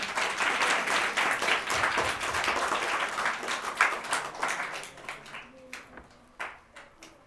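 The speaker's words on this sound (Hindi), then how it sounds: "कृपया आप सभी लोग उसके सम्मान में करताल ध्वनि से उनका सम्मान कीजिए।" Audience applause for guests being honoured on stage at a social drama event, a dense burst of clapping that thins into scattered claps and fades out over the final seconds.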